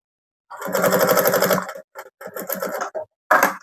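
Close and loud, a sewing machine stitching a bag seam runs in a rapid chattering burst, then stops and starts in several shorter runs.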